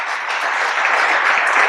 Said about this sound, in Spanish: Me gustaría que la reciban con un aplauso a ella.